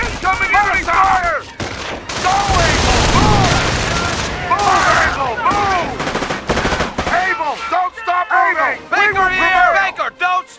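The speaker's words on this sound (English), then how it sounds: "Incoming enemy fire!" Bursts of gunfire and machine-gun volleys from the Company of Heroes World War II strategy game crackle repeatedly over battlefield explosions, with soldiers shouting and talking throughout.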